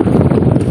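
Strong sea wind buffets the microphone aboard a fishing boat during a heavy southwest monsoon, a loud, steady low roar that runs for the whole short stretch with no voices.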